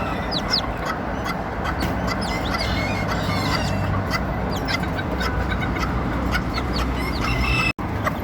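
Busy poultry yard with steady clucking and soft peeping from White Leghorn and bantam chicks, a hen's low calls mixed in, continuous and close.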